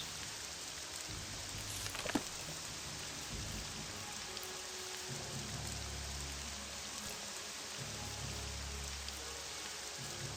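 Steady pouring rain in the video game Morrowind, a dense hiss throughout with low rumbles of thunder rolling in and out and a brief sharp crack early on; no speech.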